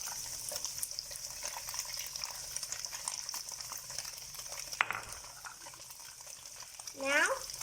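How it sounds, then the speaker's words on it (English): Garlic and ginger fry in a pan for a leek and tofu stir fry, a quiet continuous sizzle with faint stirring scrapes and a brief clatter, near and low in level, with no talk. "Now we will continue to fry it."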